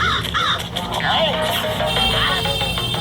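Harsh crow caws sound several times in short bursts, loud and close, over steady background noise.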